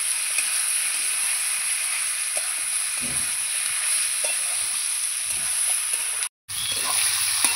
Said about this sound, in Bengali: এই যে মাংসটা নাড়াচাড়া করছি